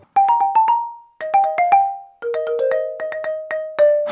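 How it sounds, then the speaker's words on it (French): Xylophone hold music for a phone advert plays alone, close and loud, as three short phrases of quick struck notes, each run settling onto a ringing sustained tone. "Formidable, du xylophone."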